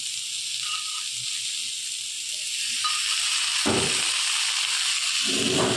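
Yogurt hits green chillies frying in a pan and sets off a loud, steady sizzling hiss, with a few stirring scrapes and bursts of spitting, close and with no voices.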